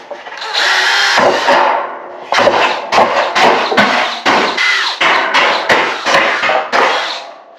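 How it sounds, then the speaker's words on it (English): A power drill bores holes through a wooden board laid down for a homemade hunting blind, a loud whirring burst followed by a series of shorter drilling runs with brief pauses between. "So now to drill our holes, I'll lay a board down on here"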